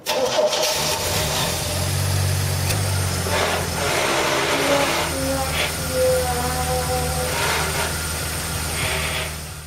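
A car engine cranks with a rhythmic starter churn, sputters and catches briefly, then falters in uneven bursts of revving, loud and close throughout.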